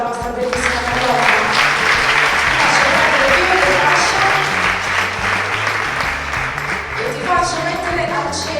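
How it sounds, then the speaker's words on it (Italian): A dense, loud audience applause at a Miss Colà Terme beauty pageant final in Lazise, continuous clapping from a large crowd that runs steadily throughout. "Facciamo ancora un applauso alla nostra bellissima Carlotta"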